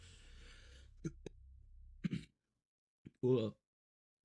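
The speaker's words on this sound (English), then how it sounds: "Sorry for the cough right at the start there." A few short throat-clearing coughs from a streamer at a desk, brief and close, separated by quiet gaps, followed by a burst of speech.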